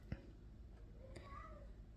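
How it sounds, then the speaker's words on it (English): A faint cat meows once or twice in the background of a quiet kitchen during cooking, short and distant. "that is my cat Aaron in the background"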